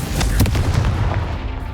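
A Confringo fire spell blasts in Hogwarts Legacy, a few sharp booming bursts in quick succession at the start over a rumbling low background, then a dull roar trailing off.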